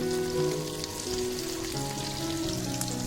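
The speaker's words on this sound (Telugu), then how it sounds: "ఈ మ్యారినేట్ చేసి పక్కన పెట్టుకున్న ఈ సార్డిన్ పీసెస్ని ఇలా ప్యాన్లో వేసి ఫ్రైకి రెడీ చేసుకోవాలి" Marinated sardine pieces shallow-frying in a pan over a medium flame, a steady close sizzle and crackle running throughout with no talking.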